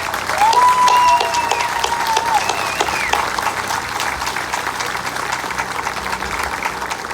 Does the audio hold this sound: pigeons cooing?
no